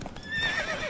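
Roach, the horse in The Witcher 3, gives a short bright whinny lasting under a second, near and clear with faint hoof clops around it.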